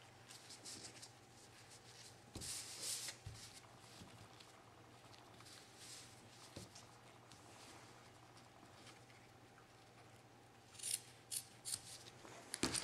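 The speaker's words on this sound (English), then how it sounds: "you're just gonna cut from this end, from the corners, up towards the top" Scissors snip the ends of a ribbon into a backwards V, several crisp, close cuts spaced apart, with a quick cluster of snips near the end against a quiet room.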